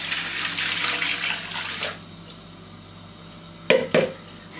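Water is poured into a cooking pot holding capsicum, stock cubes and green chillies for a rice dish, a close splashing stream for about two seconds, then a quiet pause and two brief clinks.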